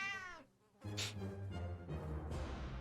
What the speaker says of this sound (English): The cat is growling in the general direction of us and our supplies.